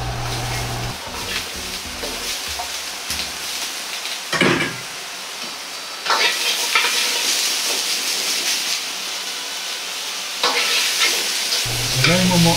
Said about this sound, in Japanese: じゃがいもも炒めておくことで、煮崩れすることを防ぐことができます。